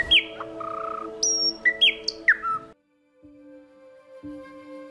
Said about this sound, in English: This is the sound of the one of inhabitants of our forests, birds.